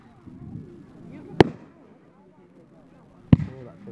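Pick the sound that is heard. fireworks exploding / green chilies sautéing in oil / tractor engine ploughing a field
fireworks exploding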